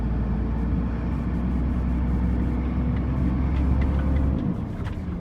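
A SHACMAN F2000 truck with a 9-speed gearbox drives with a loud, steady engine drone inside the cab, then the engine note drops sharply near the end as the gear changes.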